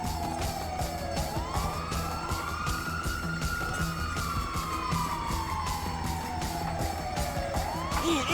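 Ambulance siren in the Grand Theft Auto V video game, a loud wailing tone that sweeps up and down continuously over steady engine and traffic noise, with no talking.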